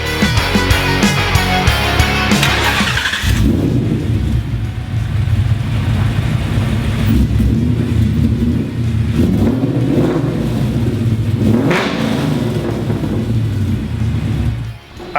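A Coyote V8-swapped Fox body Mustang with a Kooks exhaust revs hard up close, a loud raspy engine note holding steady before settling into a deep rumbling idle broken by repeated throttle blips.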